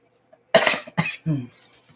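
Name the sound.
cough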